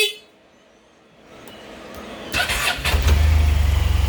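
A 600cc Honda Silverwing motorcycle cranks over after a quiet pause, with a short starter whir, then catches into a loud, close, steady idle with a low throbbing pulse.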